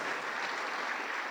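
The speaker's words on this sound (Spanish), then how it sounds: "Dele fuerte las palmas al bendito Señor" A church congregation applauds in a brief, dense burst of clapping that stays steady from start to finish.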